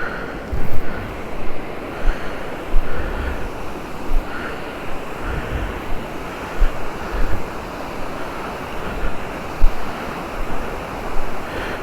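A hidden waterfall in the Kollimalai hills sends out a loud, continuous rush of water, with wind buffeting the microphone in uneven gusts over the steady roar.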